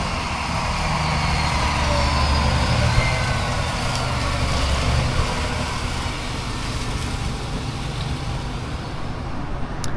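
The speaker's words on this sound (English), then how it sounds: "they bring the tractor and the wagon around" A tractor pulls a wagon alongside a corn harvester in a cornfield, giving a steady, continuous engine rumble with a broad roadway-like drone and no voices.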